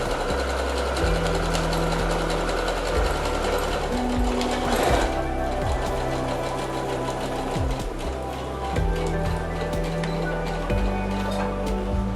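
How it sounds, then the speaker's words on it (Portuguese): A sewing machine stitches along a marked line on a bowl cover, running in a steady close-up mechanical chatter with short back-and-forth reverse stitches at the start and the end. "dou um pequeno retrocesso para segurar e vou costurando no risco"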